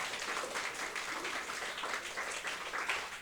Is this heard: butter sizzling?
no